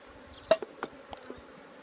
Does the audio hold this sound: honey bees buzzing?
yes